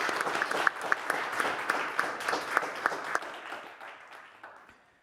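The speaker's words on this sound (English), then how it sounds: "A round of applause," An audience at a forum's main stage bursts into sustained applause, dense clapping with a few sharp individual claps standing out, fading gradually toward the end.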